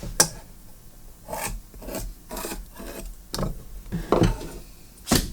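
Wooden tenons for armrest and leg pieces being cut and shaped with hand tools, a series of rough rasping strokes that recur at irregular intervals, close and moderately loud.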